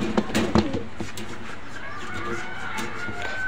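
Pigeons at a busy pigeon market in Khulna, Bangladesh, cooing and shuffling nearby, with a few sharper flutters early on over steady crowd murmur.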